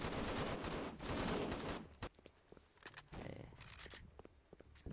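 Gunfire in a Roblox shooting game, dense rapid volleys of loud shots at the start, then scattered single cracks and another burst with footsteps and game noise between them.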